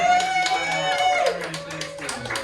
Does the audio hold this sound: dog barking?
no